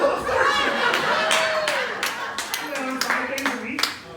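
A comedy club audience claps in scattered bursts mixed with chuckles, while voices talk over it.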